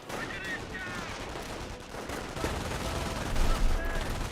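In the Company of Heroes battle game, an MG42 machine gun fires rattling bursts amid other gunfire and battle noise, with a commentator talking over the action.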